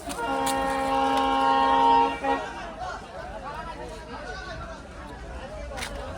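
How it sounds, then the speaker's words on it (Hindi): Train horn at a railway crossing blares loud and sustained for about two seconds, then gives way to rumbling rail noise and murmuring voices nearby. "तो इधर से सिग्नल का आवाज़ आ रहा है हारने का, ट्रेन का।"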